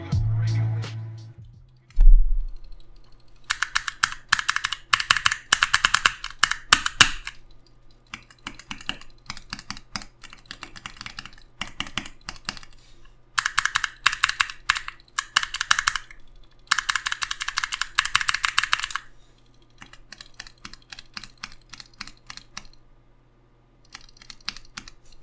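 Mechanical keypad keys with Cherry MX red and Gateron red linear switches tapped in fast rhythmic bursts, close and clear, with short pauses between each run of rapid clicking and clacking.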